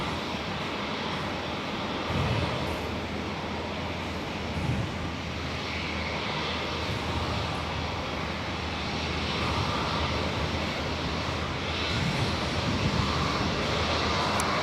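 A Cathay Pacific airliner passes at Perth airport, its steady broadband engine roar filling the air evenly throughout without clear peaks, fairly distant and constant.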